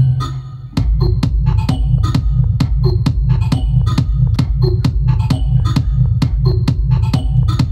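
Techno loop built from a sausage struck on metal, a loud, dense repeating pattern of sharp percussive hits over a thumping low pulse, evenly spaced at a fast steady tempo, close and continuous with no talking.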